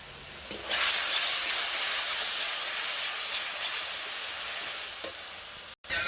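Ground poppy seed paste hits hot oil with fried tomato for a Bengali katla fish tel jhal, bursting into a loud, steady sizzle as it is stirred, with a brief clatter near the end.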